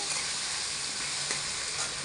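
Taro pieces frying with salt and turmeric in a pan, an even, dense hiss of sizzling oil that holds steady and close from start to finish, with no talking.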